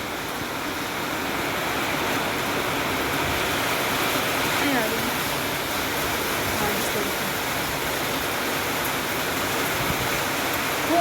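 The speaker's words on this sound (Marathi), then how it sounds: "हेच पाऊस आला खूप" Heavy rain falls with strong wind in a steady, dense roar of broadband noise that holds without a break for the whole stretch, with faint voices in the background.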